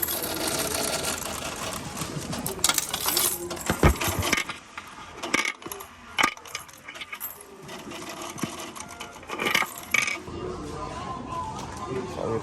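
Coins clatter and drop in bursts through a machine on a strawberry farm, with mechanical rattling and people talking around it.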